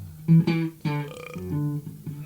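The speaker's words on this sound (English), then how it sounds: "Oh, nice belch. That was on the tape." A belch captured on an old band tape, a long, drawn-out, pitched croak that rises and wavers for a couple of seconds, loud and close with no talking over it.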